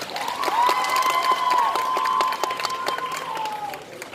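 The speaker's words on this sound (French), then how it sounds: "On l'applaudit bien fort!" A crowd at a cosplay contest in Nantes applauds a cosplayer with steady clapping, while a sustained high tone, like music or a whistle, rings over the top and fades toward the end.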